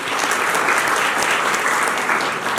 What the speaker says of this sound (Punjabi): ਇੱਕ ਵਾਰ ਜ਼ੋਰਦਾਰ ਤਾੜੀਆਂ ਦੇ ਨਾਲ